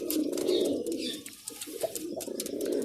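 A breeding pair of Shahjahani pigeons coos close by, giving continuous low rolling throaty calls with short breaks and faint rustling, and no voices.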